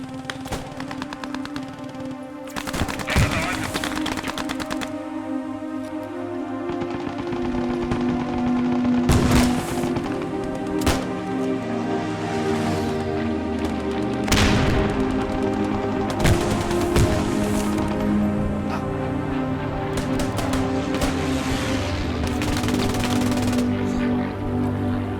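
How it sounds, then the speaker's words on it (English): Gunfire and machine-gun bursts from a World War II shooter game, loud and close, with dense overlapping shots, sharp single cracks and rapid automatic rattles running throughout over a constant low rumble. "Weapons sound loud and visceral"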